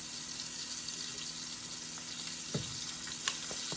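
Pork chops frying fast in a pan, a dense, even sizzle holding steady throughout with a couple of small pops near the end.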